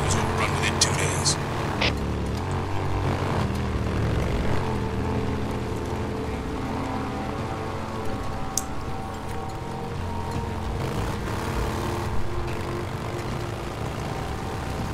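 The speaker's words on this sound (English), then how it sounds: "God, there's a lot of planes." A dense drone of many propeller airplanes flying overhead in the zombie video game Days Gone, a constant rumbling roar that stays loud throughout, with brief bursts of other game sounds.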